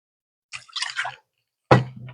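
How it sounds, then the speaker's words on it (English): Water sloshes and splashes as a cooking pot is rinsed out, two short bursts of close liquid noise separated by a pause. "So I rinse out the pot."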